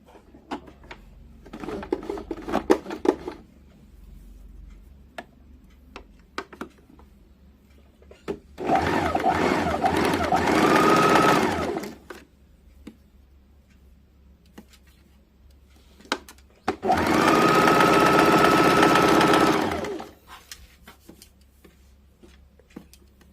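A sewing machine stitches net fabric with wire laid through its centre for a blouse sleeve, running in two sustained bursts of a few seconds each between quieter handling noises.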